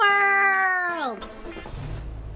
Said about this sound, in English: Oh, I have a cat! An evil cat.